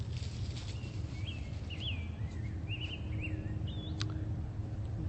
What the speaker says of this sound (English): Hear those pretty, pretty birds